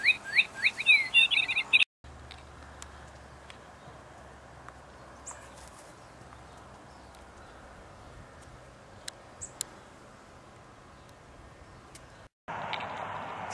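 A bird sits in a bird house and lets out bright, rapid chirps, loud and close at the start. Quiet background hiss and a few faint ticks follow, then a steady noisy sound returns at the end.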